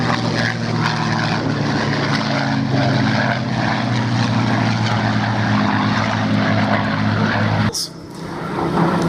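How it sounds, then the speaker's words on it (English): A Mark 1A Spitfire fighter plane drones loudly and steadily overhead with a continuous propeller-engine roar, which briefly dips near the end before swelling back, during a staged dogfight with a Messerschmitt. "Final victory roll from the Mark 1A Spitfire."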